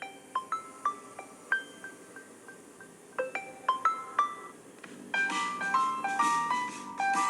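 OnePlus Nord CE 3 Lite 5G phone playing a bright chiming ringtone melody, plucked bell-like notes in a bouncing pattern that thickens into a fuller, denser arrangement near the end, heard close from the handset speaker with no talking.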